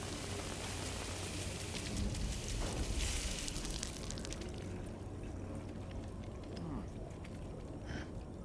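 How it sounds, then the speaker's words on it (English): Steady rain pours down in the video game Death Stranding 2, a dense, close hiss of drops that stays constant, with a brief heavier swell before easing into lighter patter. "I don't think that's the rain that ages you. It's just water."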